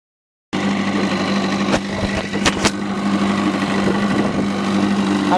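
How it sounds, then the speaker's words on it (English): A rebuilt 1969 4 horsepower antique outboard motor runs steadily at a fairly close distance, holding an even idle drone with a few brief sharper sputters partway through and no voices. "I'm currently running the 1969 4 horsepower that I rebuilt this winter, and it seems to be running really, really nice."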